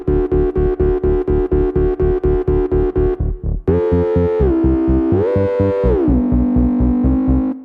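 A sharp synthesizer lead from a KORG MS-20 pulses in a fast, even rhythm, then shifts into sustained notes that glide between pitches, loud and up front.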